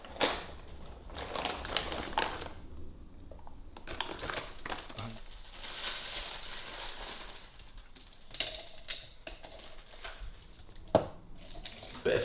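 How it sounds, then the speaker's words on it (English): Tap water runs from a faucet into a container at a kitchen sink, a steady splashing rush with shifting tone as it fills, plus a few clinks and knocks, close and continuous. "It's just tap water filled up."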